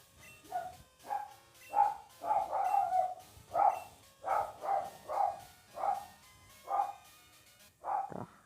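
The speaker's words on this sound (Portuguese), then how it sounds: "Cachorro." A dog barks about ten times in a steady, evenly spaced series, each bark short and fairly close, with quiet gaps between them and no talking.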